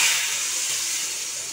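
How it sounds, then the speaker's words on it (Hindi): Hot tadka tempering poured into Punjabi besan spinach kadhi with curd, giving a loud, steady sizzling hiss that slowly fades, with no talking. "अब मैं कढ़ी वाली गैस को बंद कर दूंगी और ये तड़का इसमें डाल दूंगी।"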